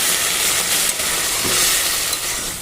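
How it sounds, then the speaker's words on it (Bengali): Water hits a hot pan of fried vegetables with Malabar spinach and rohu fish head, giving a loud, continuous sizzling hiss of steam close by, with no talking. "তো কথা বলতে বলতে কিন্তু ভাজা হয়ে গেছে, এটাকে এবার জল দিয়ে দিচ্ছি একটু।"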